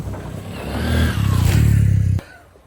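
A Honda XR150L adventure motorcycle revs, its engine note climbing and holding loud and close for about two seconds before dropping off abruptly.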